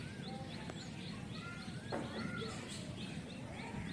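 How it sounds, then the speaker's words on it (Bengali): Several small birds chirp and tweet in short repeated calls around a coconut tree, faint and moderately distant over a steady outdoor hiss, with no talking. "আর পাখিগুলো দেখো কিচির মিচির করে ডেকে যাচ্ছে"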